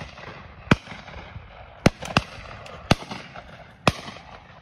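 Five sharp shotgun blasts at a Boxing Day pheasant shoot, some distant and some nearer, spaced irregularly with two shots fired in quick succession, each leaving a brief echoing tail.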